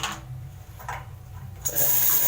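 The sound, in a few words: water running strongly from a tap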